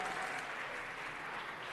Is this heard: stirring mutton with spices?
no